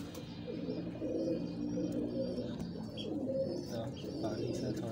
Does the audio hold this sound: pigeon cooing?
yes